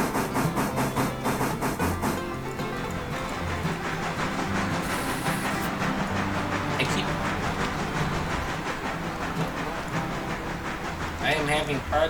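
A locomotive in the Railroader train video game rumbles and hisses steadily with rhythmic mechanical pulsing, running continuously beneath someone talking throughout.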